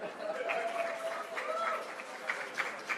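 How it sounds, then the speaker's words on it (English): An audience applauds a panel at the close of a talk on job quality, broad steady clapping with crowd chatter mixed in and a few sharper claps near the end. "let's give it up one more time for our panel"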